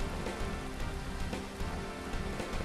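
Steady rain falls in the video game Atelier Firis, a constant close hiss of drops spattering on a surface with no pauses and no talking.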